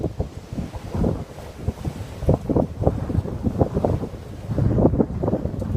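Gusty outdoor wind buffets the microphone in uneven low rumbling surges, loud and close, with no voices.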